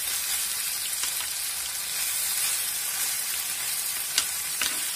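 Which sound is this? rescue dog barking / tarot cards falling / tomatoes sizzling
tomatoes sizzling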